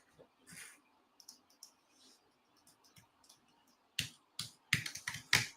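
Faint, scattered clicks and taps from a computer keyboard that is failing to work, coming in sparse irregular bursts with a denser cluster of sharper keystrokes toward the end, in a quiet room.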